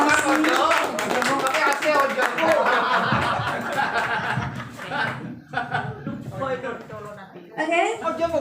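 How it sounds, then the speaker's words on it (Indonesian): A small audience of teachers applauds at a school workshop, steady clapping mixed with chuckles and laughter throughout while a presenter keeps talking over it. "Bapak Adi dan Bapak Ahmad, kita kasih aplaus dulu"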